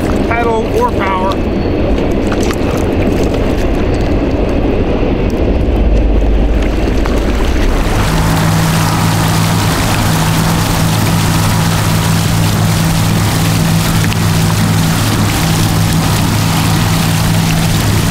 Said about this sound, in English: Paddling with the motor actually gives you faster speeds than you can accomplish with pedal or power.